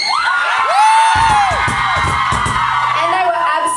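Loud, close concert crowd in Glasgow at a show, a dense wall of whooping, screaming and cheering voices with high shrieks rising and falling over steady roaring applause.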